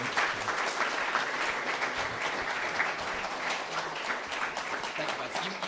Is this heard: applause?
yes